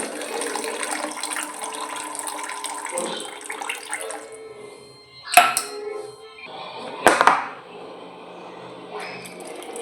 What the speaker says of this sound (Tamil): இப்போ நம்ம புளி ஊற வச்சுருந்தோம் இல்லையா, அதை கரைச்சி இதில் ஆட் பண்ணிக்கலாம்.